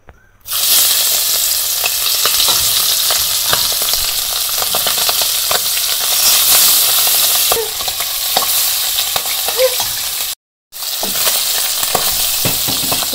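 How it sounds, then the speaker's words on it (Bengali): Spiced fish pieces sizzle loudly in hot oil in a wok, a dense continuous frying hiss with occasional stirring clicks, broken by one brief silence near the end. "মাছ মাখানো হয়ে গেছে, এখন মাছগুলো ভেজে নেই"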